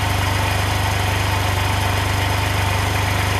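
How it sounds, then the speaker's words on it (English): Small engine idling steadily as it warms up after a final flush, carburetors balanced on the air screws, a constant close, even low rumble with no talk. "Gonna let it idle for a while, warm up the temperature"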